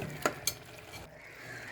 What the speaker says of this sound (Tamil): இப்போ மசிச்சு வச்சுருக்க உருளைக்கிழங்கெல்லாம் இந்த குக்கரில் சேர்த்துடலாம்.